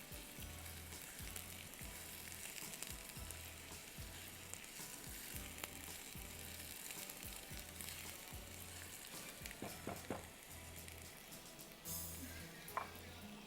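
Onions frying in a pan until soft for achari qeema, a low steady sizzle running throughout with occasional faint stirring clicks, quiet and continuous with a soft rhythmic hum beneath.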